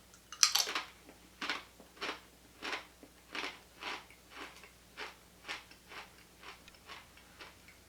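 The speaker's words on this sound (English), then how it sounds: "they're very crisp, like a chip, like a potato chip" Crisp dehydrated plantain chips bitten and crunched up close, about a dozen sharp crunches in an even chewing rhythm, faint and with no talk.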